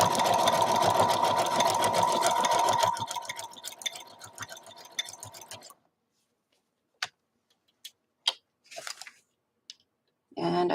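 Home sewing machine stitching a zigzag embroidery pattern, with a fast, loud, rhythmic mechanical whir for about three seconds that slows and stutters, then a few isolated clicks and brief bursts before it starts up again at the end.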